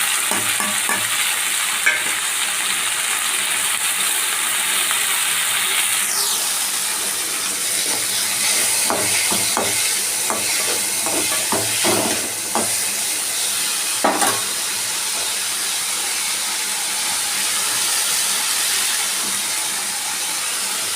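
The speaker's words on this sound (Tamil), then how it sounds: "மட்டன் கிரேவியில் கொஞ்சம் உப்பு போட்டு குழம்புக்கு தேவையான தக்காளி வதக்கிறதுக்கு போட்டாச்சு." Tomatoes sautéing with salt in mutton gravy in a pan, giving a steady, close sizzle with stirring clatters and scraping throughout, and no talking.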